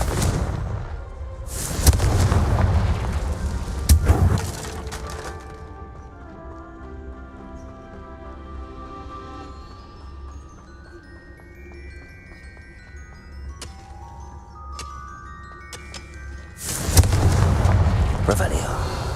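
Confringo blasting spells explode in Hogwarts Legacy: a loud burst early on, another around four seconds, and a final heavy blast near the end. Between the blasts, quieter game music and effects carry on.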